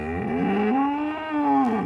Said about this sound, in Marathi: ही गाय वाटते बघा मित्रांनो, ही.